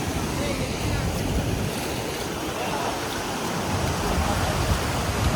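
Fast-flowing water rushes steadily at Viripara waterfalls in Munnar, Kerala, a dense, continuous roar close by with no breaks, mixed with some wind noise.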